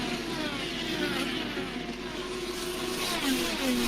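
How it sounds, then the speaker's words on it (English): IndyCar race car engines howling around the Iowa oval, a loud continuous buzzing drone with rising and falling pitch as several cars pass, no voices. "Fantastic engine sounds, as I think I've mentioned a few times already."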